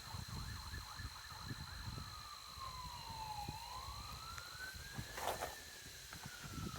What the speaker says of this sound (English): That's a weird-ass siren